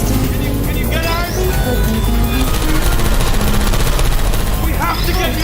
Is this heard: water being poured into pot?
no